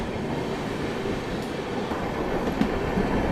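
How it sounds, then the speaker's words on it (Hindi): Steady rolling rumble and rail clatter from a moving Rajdhani passenger train as a WAG-12 electric freight locomotive passes alongside on the Patna line, a continuous broadband roar with faint wheel clicks and no talk. "अब फ्रीट के लिए वैग 12 जो आ गया है"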